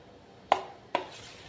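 Dhokla batter being stirred in a pot gives two sharp, close metallic clinks about half a second apart, then quiet scraping, with no talk.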